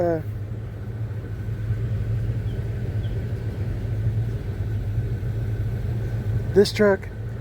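A 1975 Chevy C10 pickup truck engine idles steadily with a low, even rumble, and a brief higher sound cuts in near the end.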